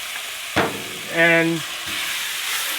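Water sprayed onto a hot Blackstone griddle top sizzles and steams in a steady hiss, with a brief clatter and a short voice just before.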